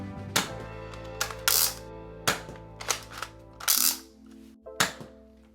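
A Zuru X-Shot Hawkeye toy blaster fires Nerf Elite darts, giving about eight sharp, close pops with air-burst hiss, spaced irregularly over a few seconds with no talking.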